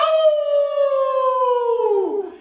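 Dogs and people howl together at a Nebraska animal shelter: one loud, close howl holds a steady pitch, then slides downward and fades out.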